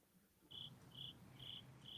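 Crickets chirp at night in four evenly spaced, high, bright trills over a low background rumble, steady and fairly close, with no voices.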